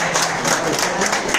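Seated crowd at a business gathering bursts into applause, a loud close wash of clapping hands that runs steadily for a second and a half.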